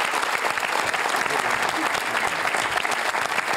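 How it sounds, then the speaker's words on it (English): A studio audience at a televised Q&A panel programme applauds loudly and continuously, a dense even wash of many hands clapping from start to finish. "Please give yourselves a quick round of applause."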